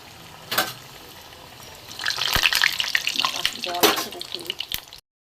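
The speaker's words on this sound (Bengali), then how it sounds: "তেল গরম হয়ে গেছে এখানে আমার ছানার জিলাপিগুলো গড়া আছে আমি অল্প অল্প একটা একটা করে ভেজে নেব" Shaped chhena jalebi pieces go one by one into hot oil. A low bubbling sizzle swells into busier crackling and spattering, with a few sharp clatters, close by and moderately loud.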